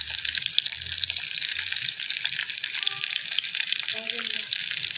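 Dried fish, onion and garlic fry in hot oil in a pan, giving a steady, close, bright sizzle that runs throughout, with a few faint tones from a voice or utensil mixed in briefly.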